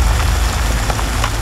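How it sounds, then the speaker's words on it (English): Steady rain pours onto a leaking shelter out in the wild, a dense, even hiss with a low rumble beneath it and a few sharper drips standing out. "Hopefully this rain will be short."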